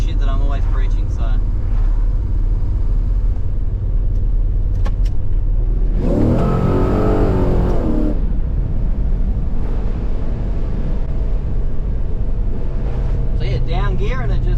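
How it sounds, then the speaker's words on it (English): An LS1-powered VN Commodore revs hard in a lower gear as its tyres spin, a loud rising engine roar with squealing harmonics lasting a couple of seconds, set against steady road and engine drone with talk around it. "down gear and it just fries the tyres, which is pretty sick"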